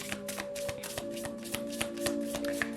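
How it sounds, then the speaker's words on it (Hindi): Tarot cards are shuffled by hand in quick riffling bursts, a soft papery flutter repeating in a steady rhythm over a faint background hum. "चलिए शफल कर लेते हैं"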